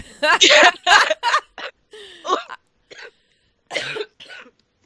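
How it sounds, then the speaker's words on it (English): Two podcast hosts break from laughter into a coughing fit: loud, close, harsh coughs and throat-clearing in a few bursts with short gaps, mixed with wheezy chuckles. "As we laugh at ourselves and then go into a coughing fit."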